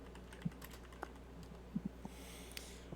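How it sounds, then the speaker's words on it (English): Someone types on a computer keyboard, producing sparse, irregular key clicks that are faint and close, with short pauses between taps against a quiet background hum. "I'm just typing in here."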